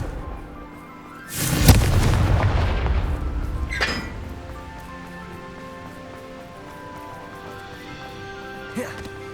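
A Confringo explosion spell bursts in Hogwarts Legacy with a loud blast and rumbling decay, followed by a smaller crack a couple of seconds later and a faint pop near the end.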